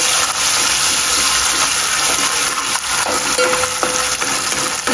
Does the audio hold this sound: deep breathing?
no